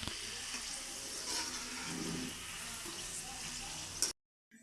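Cabbage pakoda sizzling in hot oil, a dense close crackle and hiss that runs steadily, then cuts off abruptly near the end.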